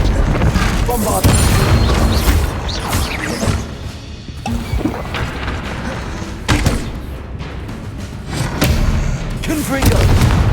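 Bombarda blasting spells in Hogwarts Legacy burst repeatedly in loud, close booms and crashes, with cracking impacts and spell whooshes in an irregular rhythm amid combat, voices calling out between them.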